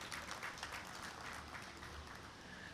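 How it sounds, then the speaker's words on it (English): Audience applause for an honored guest at a formal gathering, a faint, even wash of many hands clapping heard from a distance with no voices over it. "a big round of applause for Nirmal sir"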